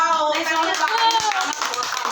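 A small group claps after a song is sung, quick close handclaps over lingering sung or spoken voices, brief and moderately loud.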